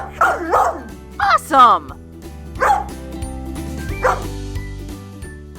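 A cartoon dog character barks and yips in short bursts, mixed with a cheerful voice speaking over light background music.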